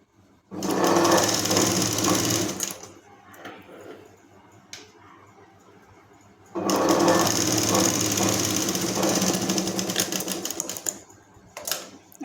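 A sewing machine stitches a fabric strip onto a balloon sleeve in two loud, rapid mechanical bursts, with a quieter pause of handling noises between them.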